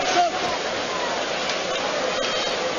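A bucket of water is poured and splashed over a boxer in his corner between rounds of a heavyweight bout between Butterbean and Larry Holmes, a steady rushing wash lasting several seconds amid a noisy arena.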